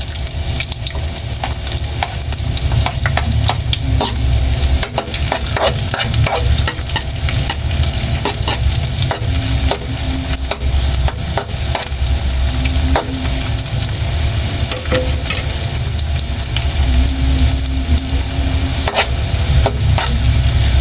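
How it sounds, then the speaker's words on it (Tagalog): Ginger sautéing in hot oil for sweet and sour tilapia, a loud, steady close sizzle that runs without a break, with frequent spatula scrapes and clicks over it. "So, igisa natin daw ating luya."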